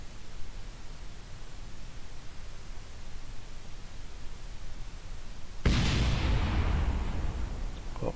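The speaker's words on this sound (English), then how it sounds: "What was that explosion?" An explosion in the video game Kerbal Space Program bursts out suddenly after several seconds of steady static-like rushing, a loud broadband blast that lingers as a rumbling roar to the end.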